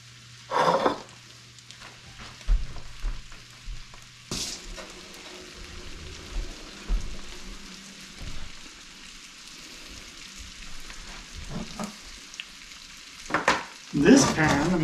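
Walleye fillets fry in butter in a pan, a steady close sizzle with occasional louder crackles and stirring clatter, gaps of quieter hiss between bursts.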